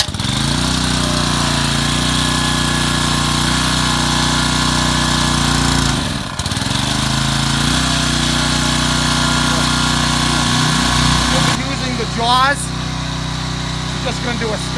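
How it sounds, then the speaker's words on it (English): A heavy hydraulic power unit's engine idles loudly and steadily after starting, a constant rumbling drone with a brief dip midway, and faint clanking near the end. "Once you start the power plant, you're going to want to slowly work this choke off as it warms up."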